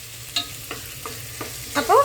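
Vegetables for chicken pulao being stirred and sautéed in a pan, with a soft steady sizzle under several separate scraping strokes of a spoon and a louder clatter at the end; no talking.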